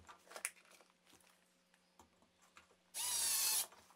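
A screw is driven into a metal stud while framing a tiny house wheel well, heard as one short, loud burst of power-driver whir after a few quiet taps and clicks.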